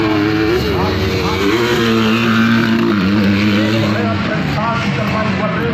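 250cc motocross motorcycles racing on a dirt circuit, several engines whining and revving past at once, loud and continuous, with a commentator talking over them.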